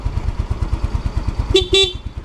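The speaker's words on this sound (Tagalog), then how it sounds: "Tapos yung kanyang busina." Two short motorcycle horn beeps sound over the motorcycle's steady idling engine, close by, with the pulsing motor continuing throughout.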